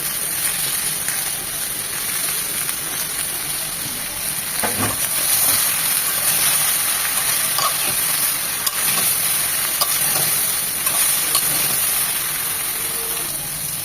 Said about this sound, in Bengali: এই পর্যায়ে বেগুনটা দিয়ে দিচ্ছি